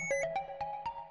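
A phone ringtone plays a quick series of bright electronic tones in a steady rising pattern, clear and moderately quiet with no voices.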